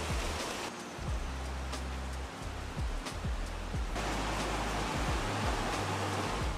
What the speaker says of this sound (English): Here's rain is not like London or Paris. It is tropical squall.